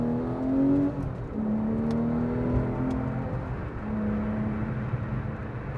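A 4-liter Porsche 911 engine pulls up through the revs while driving, its steady mechanical drone rising in pitch over several seconds, heard close from inside the car.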